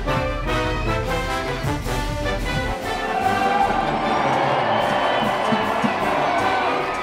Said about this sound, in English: Down on the floor, the crowd's getting nuts, they're doing the wave.